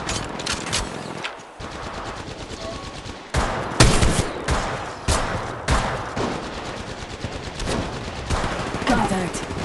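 Rapid automatic gunfire in Apex Legends Mobile: dense bursts of shots fired close up, with sharper, louder volleys partway through, and a voice briefly heard over the shooting.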